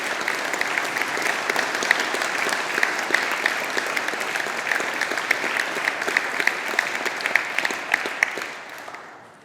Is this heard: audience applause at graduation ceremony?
yes